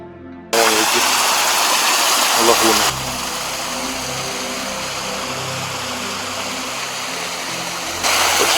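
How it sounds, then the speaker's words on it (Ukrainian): Rushing water pours steadily and close, a continuous broad roar of a small, clear mountain waterfall in Yaremche, with a faint voice briefly heard beneath it. "тут маленькі свої водоспади тут. Гірські чисті."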